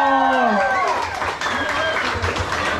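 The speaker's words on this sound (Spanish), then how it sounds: "Un aplauso" A voice speaks briefly, then a crowd at a family party breaks into steady applause that carries on to the end.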